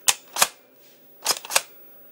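An Umarex Beretta M12S airsoft gun dry-fired with its safety on, producing four sharp mechanical clicks, two in quick succession, a pause, then two more, close and crisp with nothing else around.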